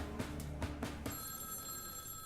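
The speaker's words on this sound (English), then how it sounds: "Suddenly, Jim Martin's phone rings." An old-style telephone bell rings in a few quick bursts, loud and close, then a bright electronic tone holds steady to the end, with no talking.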